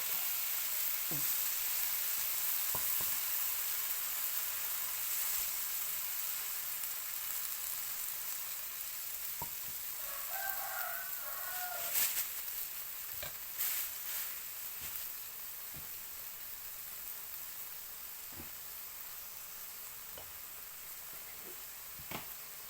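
Broccoli and pork stir-fry in a pan over a weak flame, a steady sizzling hiss throughout with occasional clinks and scrapes of stirring, close by and fairly quiet.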